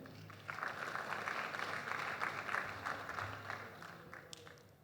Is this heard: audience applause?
yes